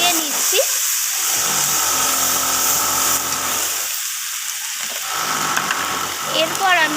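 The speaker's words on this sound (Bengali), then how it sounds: "তো সমস্ত কিছু আবারও নাড়াচাড়া করে আমি কষিয়ে নিচ্ছি।" Spices with garlic and ginger paste sauté in a pan for a tomato rohu fish curry, giving a steady close hiss of sizzling oil that swells and eases, with faint clinks from stirring.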